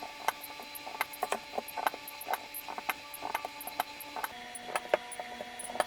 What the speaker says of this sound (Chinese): 我们接下来呢就可以进行点焊